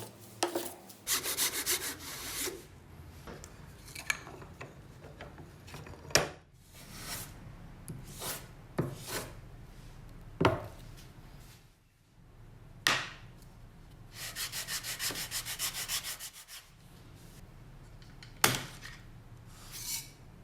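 Maple wood block being reshaped by hand for a guitar headstock: repeated rasping and sawing strokes in uneven bursts, close and fairly loud, with short pauses and sharp knocks between passes, no talk.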